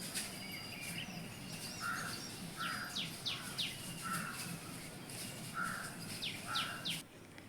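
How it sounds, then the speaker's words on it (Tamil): Sparrows chirp and crows caw outdoors in a natural setting where peacocks are present, with short repeated calls in scattered bursts over steady insect-like background noise, fairly faint and distant. "காக்கா கத்துறது, குருவி கத்துறது"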